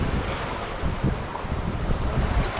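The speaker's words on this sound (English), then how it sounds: "21 knots of true wind." Strong wind of about 21 knots while sailing under the head sail with the engine off: a constant loud roar and buffeting across the microphone, with rushing water beneath, steady and close throughout.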